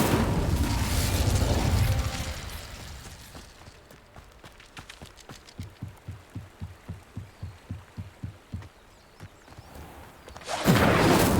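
The Incendio fire spell is cast in Hogwarts Legacy: a loud fiery burst opens, then a quiet stretch of steady thumping pulses, and a second roaring blast of flame erupts at the end.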